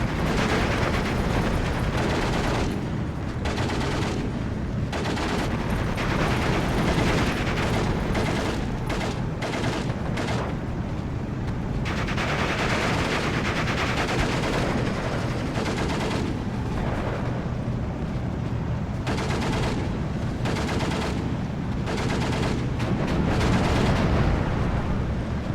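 A Maxim machine gun and artillery fire in the Steel Division 2 wartime strategy game, heard as a dense, continuous battle din of rattling bursts and booming blasts that lasts throughout.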